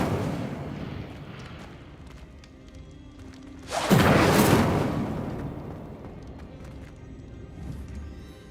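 An Incendio fire spell in Hogwarts Legacy flares up as a sudden loud, roaring whoosh about halfway through, then fades into a quieter ambient hum.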